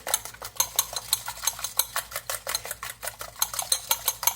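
Milk and eggs whisked in a bowl for Pennsylvania Dutch halluski, a utensil clinking against the dish in a steady, quick rhythm of repeated taps, close and fairly loud with no talking.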